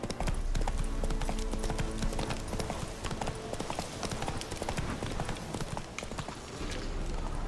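A horse gallops in The Witcher 3 video game, rapid steady hoofbeats drumming close and loud for the whole stretch.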